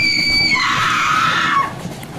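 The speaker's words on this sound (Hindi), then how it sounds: "खौफनाक चीख," A woman lets out a terrifying, high-pitched horror-story scream, one loud sustained shriek that wavers and drops in pitch before cutting off after nearly two seconds, with no talking.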